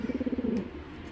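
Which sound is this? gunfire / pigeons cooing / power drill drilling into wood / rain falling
pigeons cooing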